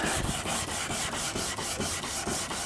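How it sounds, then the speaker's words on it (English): Hand sanding of a repaired plastic car bumper: a continuous gritty rubbing in quick regular back-and-forth strokes, close and fairly loud, with no talking. "Work your way under as you sand"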